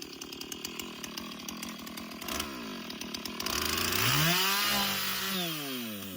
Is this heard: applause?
no